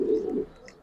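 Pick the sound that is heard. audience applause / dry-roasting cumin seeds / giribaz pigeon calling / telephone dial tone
giribaz pigeon calling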